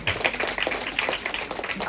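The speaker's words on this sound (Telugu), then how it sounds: "ఒకసారి అందరం కూడా గట్టిగా చప్పట్లు కొట్టాలి" A crowd claps and applauds steadily for a couple of seconds, a dense patter of hand claps with no pauses.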